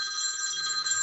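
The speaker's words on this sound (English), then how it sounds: "Oh, that was the bell." A bell rings steadily through a planning committee meeting, a continuous bright electric ring heard alone and fairly close, with no talk over it.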